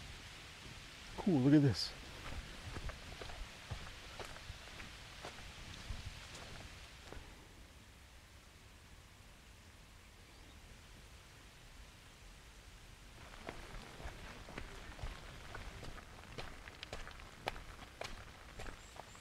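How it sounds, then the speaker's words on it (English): Rain falling outdoors in Japan during a hillside hike makes a steady broadband hiss. Footsteps and a brief voice sit over it, and the patter thins out briefly in the middle before returning. "And here's the rain."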